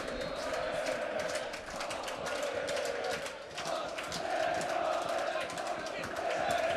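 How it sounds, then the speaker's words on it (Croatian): Roughly four to five thousand football fans cheering at Grbavica stadium after a Željezničar goal, a dense sustained crowd roar with chanting beneath a commentator's voice. "velika radost oko 4000, možda i više, 5000 navijača Željezničara danas na Grbavici"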